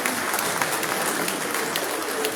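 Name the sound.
round of applause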